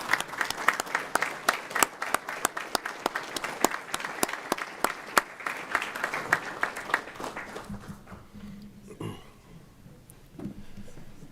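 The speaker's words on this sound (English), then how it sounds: "If you guys will stand up and give a round of applause to your family and friends that have supported you along the way." At a fire rescue new-hire graduation and promotion ceremony, a standing crowd gives a round of applause for family and friends, with clearly distinct claps, fairly close, gradually thinning out toward the end.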